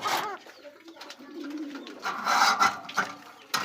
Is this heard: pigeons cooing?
yes